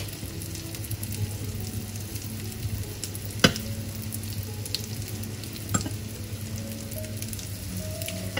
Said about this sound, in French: on met les petites nuggets à dorer